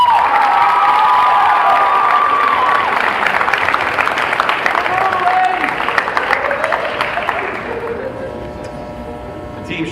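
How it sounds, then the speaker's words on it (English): A large school audience at a high school senior awards ceremony breaks into loud applause with whoops and cheers, the clapping gradually thinning out toward the end. "Another nice round of applause for all the effort that she went"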